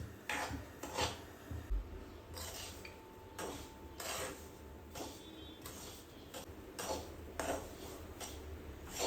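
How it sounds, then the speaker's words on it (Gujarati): A spoon scrapes and stirs semolina slowly roasting in a pan over a gas flame, soft rasping strokes repeating at an unhurried pace, fairly quiet and close. "ગેસ ઉપર રવો છે ને ધીમે ધીમે શેકવો."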